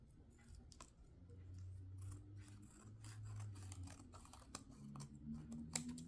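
Scissors trim a paper window envelope in a run of quiet, close snips and crisp cuts, faint and irregular, with soft handling rustle between them.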